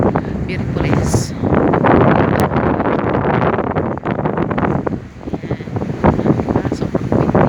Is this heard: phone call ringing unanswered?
no